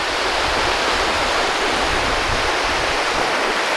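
Ocean waves at a bay in Hawaii make a steady, dense roar of surf that holds constant throughout, with no voices.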